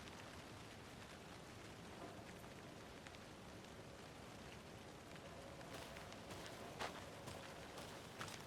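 Rain falls in the video game Alan Wake II as a soft, steady wash of drops, with faint footstep-like patters and a few sharper taps toward the end.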